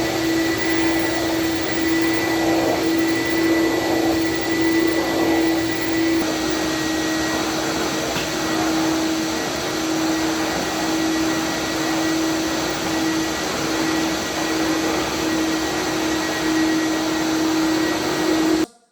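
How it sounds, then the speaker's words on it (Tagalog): A wet and dry vacuum machine runs steadily and loudly for the whole stretch, with a constant motor whine and airflow roar that cuts off abruptly at the end. "Ang vacuum machine na ginagamit dito namin mga kabs ay wet and dry."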